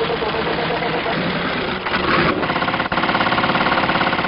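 A 1948 Wooler motorcycle engine turns over and catches on the first try, then settles into a steady, rhythmic idle with a pulsing chug, close and fairly loud.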